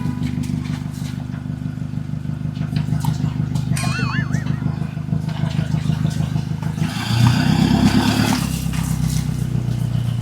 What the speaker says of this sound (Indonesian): Suara mesin yang meraung berpadu dengan suara air membuat perjalanan terasa semakin seru untuk ditonton.